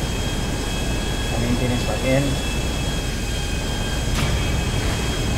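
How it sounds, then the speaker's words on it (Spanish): A jet aircraft engine in GTA V roars steadily as a loud, broad whoosh with a faint high whine, while a voice talks over it. "Poder manejar un jet también"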